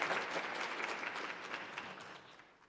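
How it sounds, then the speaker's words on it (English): An audience at a conference session applauds a panelist, giving a steady round of clapping from a crowd that slowly fades over a few seconds. "Give him a round of applause."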